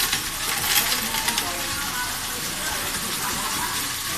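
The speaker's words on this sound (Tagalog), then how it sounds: "tingnan po natin ano po kaya susunod nito after gusto mahulog ang barya" Coins dropping and rattling through a BSP coin deposit machine in a mall, a steady bright clattering stream throughout with faint voices in the background.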